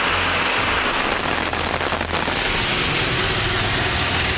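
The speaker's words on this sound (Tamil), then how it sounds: "தருமபுரி மாவட்டம் அரூர் சுற்றுவட்டார பகுதிகளில் மழை பொழிந்தது." Steady rain falls across the Arur area of Dharmapuri district, Tamil Nadu, a constant close hiss of drops on surfaces with a low engine-like rumble underneath, and no voices.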